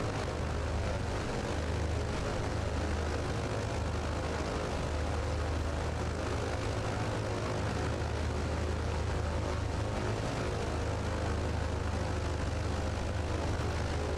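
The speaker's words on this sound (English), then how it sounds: "There we got the caravan coming in." A Cessna Caravan propeller plane coming in to land on a short island runway in Microsoft Flight Simulator 2020, its engine drone loud and constant throughout.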